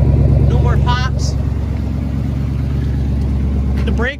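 A Chevrolet C20 squarebody pickup truck's engine runs steadily while driving, a loud low drone throughout with brief human vocal sounds over it early and at the end.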